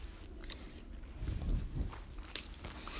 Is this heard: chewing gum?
yes